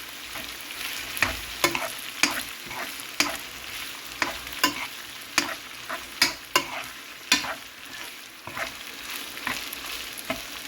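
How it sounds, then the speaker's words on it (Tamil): Boiled ragi vermicelli stirred into cooked corn in a pan, with a steady run of scraping, clacking spoon strokes over a faint background hiss and no talking. "சேர்த்துட்டு நல்லா மிக்ஸ் பண்ணணும்"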